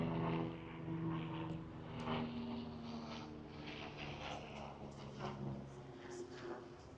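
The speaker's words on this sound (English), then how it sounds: "They're gonna do a flyover." An aircraft flies over during a Hollywood Walk of Fame star ceremony in Los Angeles, a low propeller-engine drone, moderately distant and steady, mixed with faint crowd murmur.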